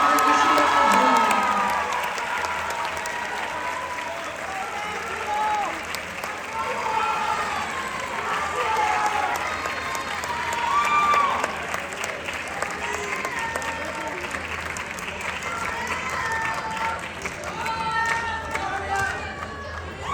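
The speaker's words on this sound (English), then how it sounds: "now a round of applause for all of those recipients" Sustained applause and cheering rise from a crowd at a band awards ceremony for the recipients on stage. Many hands clap continuously alongside whoops and excited shouts, loud at first and then steady for about twenty seconds.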